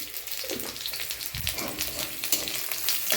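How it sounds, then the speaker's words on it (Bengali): Garlic, chili and panch phoron tempering in hot oil, a steady close sizzle with crackling bursts throughout and no talk. "রসুন লঙ্কা সম্বরা দিলাম"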